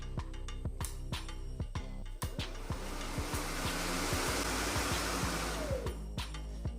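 A Ryobi battery-powered lawnmower motor spins up and runs, a loud steady whirring roar with scattered sharp clicks and knocks over it, close by and without talk.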